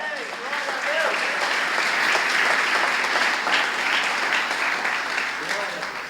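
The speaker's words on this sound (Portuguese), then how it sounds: "Quem acredita, aplauda ao Senhor" A church congregation applauds the Lord during a sermon, a loud, sustained wash of clapping that holds steady for several seconds before easing off slightly.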